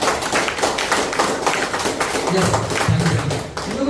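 Audience clapping hands in a hall, a steady dense patter of many claps heard close, with a voice speaking over it briefly.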